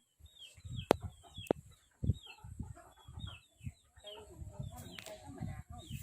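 Chickens cluck softly and intermittently nearby, with a few sharp clicks and low thumps amid a faint outdoor background.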